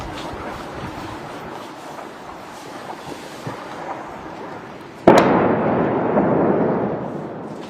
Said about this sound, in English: a large explosion hit Lebanese capital Beirut's southern suburbs on Sunday night, and fire and smoke were seen following the blast